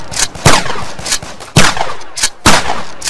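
Bursts of gunfire ring out in the 3D shooter Combat Extreme, several sharp, loud shots and short volleys spaced irregularly, with no talking.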